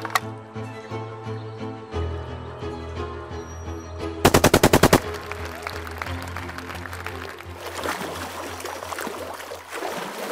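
A cartoon machine gun fires a short, loud burst of rapid evenly spaced shots, coming in after music and followed by busy background noise.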